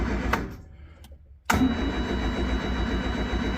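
A carbureted car engine catches after a brief crank, then settles into a loud, steady close-up idle with a rough low rumble.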